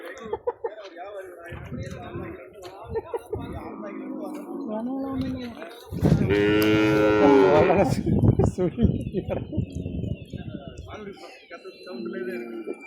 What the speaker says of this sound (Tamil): நாட்டு மாடு மட்டும்லாம் இல்லை போல